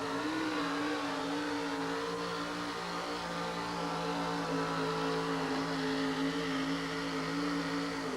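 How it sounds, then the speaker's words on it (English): Monster truck engine straining at steady high revs through a pull at a 1988 USHRA Kansas City event, a loud continuous drone with stable harmonics throughout, no talk over it. "The engine in this truck, built by his 17-year-old son. Watch it work."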